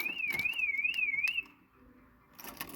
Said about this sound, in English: there goes the car alarm